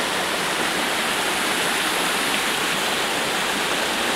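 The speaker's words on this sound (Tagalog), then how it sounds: "Yung waterfalls doon, galing doon." A beachside waterfall roars as a steady, dense, loud rush of falling water, unbroken throughout with no voices.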